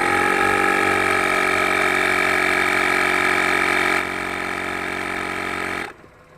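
An Autofy AIR+ portable tyre inflator pump running with a loud, steady buzzing motor drone that drops slightly in level partway through, then cuts off abruptly near the end.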